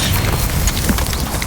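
A Descendo slam spell striking in the Hogwarts Legacy video game, a short, heavy booming impact within loud, dense battle noise.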